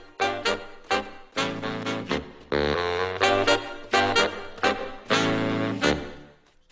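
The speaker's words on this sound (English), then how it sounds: "this is essentially a guide track that students can listen to and kind of use as a stylistic guide" A reference track of a song plays back in BandLab: a rhythmic mix with punchy hits, sustained tonal chords and bursts of brighter texture, moderately loud and steady, with no talking.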